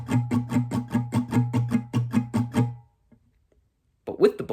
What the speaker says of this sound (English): So without the bolds, strumming pattern 1 would just sound like this.